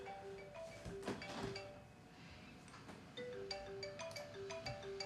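Phone ringing with a repeating melodic ringtone of short electronic tones, fairly faint, with clinks and handling noises as it plays over about five seconds.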